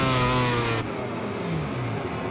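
A KTM racing motorcycle in MotoGP 21 screams loudly at high revs, then drops abruptly to a lower, rougher engine drone that carries on at a steady pace.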